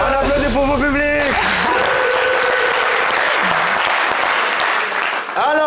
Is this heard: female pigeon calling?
no